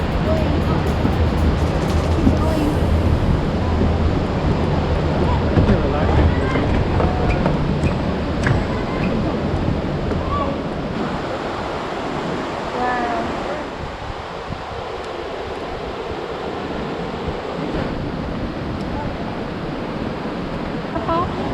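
Snoqualmie Falls thunders steadily at the base of the waterfall, a dense, loud roar of rushing water that stays continuous and broad throughout.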